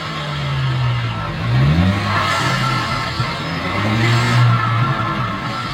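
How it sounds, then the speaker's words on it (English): An Acura Integra Type S engine revving up and down under load, with a rising turbo whistle and whooshing intake noise swelling twice over a steady engine drone. "the moment you hear that turbo spool and induction noise"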